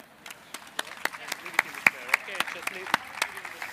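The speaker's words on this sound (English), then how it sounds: "Round of applause for our questioner" Sparse, distinct claps from an open-air festival audience as a questioner comes up onto the stage, spaced irregularly over faint background voices and whistling.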